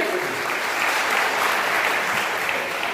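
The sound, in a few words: applause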